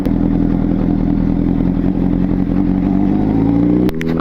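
A Honda CBR600RR sport motorcycle's engine runs loud and steady at close range, a deep throaty drone with rising revs, ending in a brief clatter.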